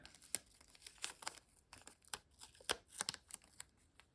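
Masking tape being pulled off a roll and torn up close for a stitched circle project. It gives quiet, sharp crinkling rips in irregular bursts, one after another, with no talking.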